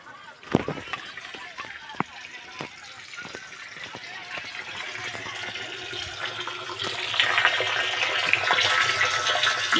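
Strong water flow from a farm water pump rushes out steadily and builds louder over several seconds, with a few sharp knocks near the start.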